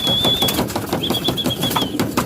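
Released pigeons flap their wings in a rapid, close-up flurry, with a thin high whistle running through the burst and no talking.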